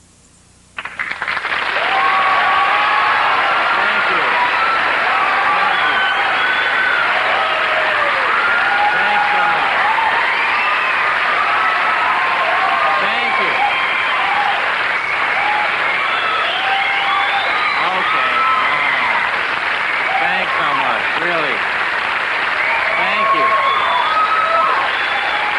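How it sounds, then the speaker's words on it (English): Studio audience at a comedy talk show breaks into sustained, dense applause with scattered cheers, loud and close, starting abruptly and holding steady throughout. "You don't want to applaud that much, really."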